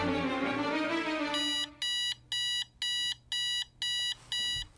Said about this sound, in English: my alarm clock woke me up